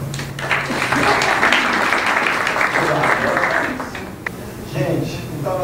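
Audience clapping together in a group session on sexuality and mediumship, a dense burst of applause that fades near the end, with voices mixed underneath.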